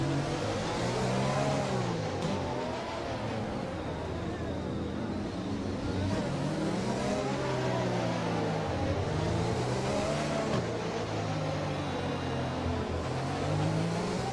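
A Formula 1 car in the F1 2020 game screams along under a steady high-revving engine whine that rises and falls through gear changes and corners, loud and continuous, with a radio voice speaking over it.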